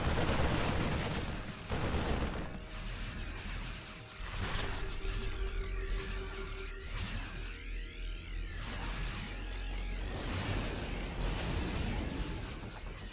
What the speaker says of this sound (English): Siege tanks are firing.